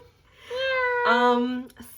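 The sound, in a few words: cat meowing loudly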